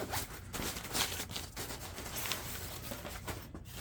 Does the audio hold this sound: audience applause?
no